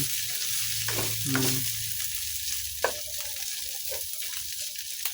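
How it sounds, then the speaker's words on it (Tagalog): Onion and garlic sautéing in rendered pork fat for penakbet, a steady loud sizzle and crackle throughout, with a few stirring scrapes and clinks. "pwede na tayo maggisa ng ating sibuyas at bawang"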